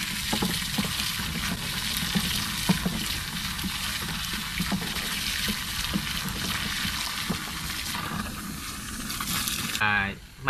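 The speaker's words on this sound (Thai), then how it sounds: "ใส่น้ำลงไป" Water poured into a fermentation container for a microbial ferment, a steady splashing hiss that continues for about ten seconds, close and fairly loud, ending in a brief clatter.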